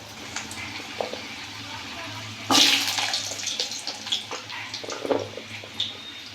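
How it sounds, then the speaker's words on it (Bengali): Potatoes dropped into hot oil tempered with cumin and a dried red chilli, bursting into a loud sudden sizzle midway that keeps crackling close by, with some talk around it. "প্রথমে এই আলুটা আমি তেলে ছেড়ে দিলাম"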